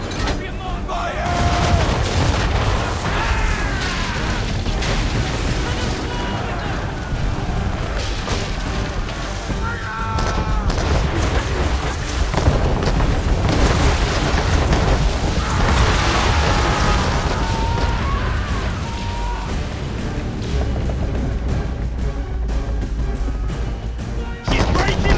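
Naval battle in Assassin's Creed III, with heavy booming cannon fire and crashing impacts continuing throughout, dense and loud under shouted voices and game music.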